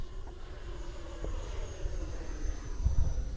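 Futura 64mm RC jet plane flying at half throttle, a steady distant engine drone that swells slightly louder toward the end as it passes.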